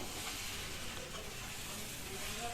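Dalia stirred in a pan with fried vegetables, a soft continuous sizzle with faint scraping, quiet and steady with no talking.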